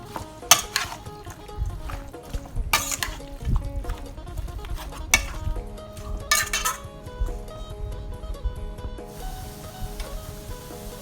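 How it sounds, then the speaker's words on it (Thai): Raw chicken is tossed and mixed with seasoning in a bowl, with squelching sounds and occasional clinks of a utensil against the dish. "เสร็จแล้วก็คลุกเคล้าให้เข้ากันนะครับ ก่อนที่เราจะเอาไปใส่หม้อนะครับ"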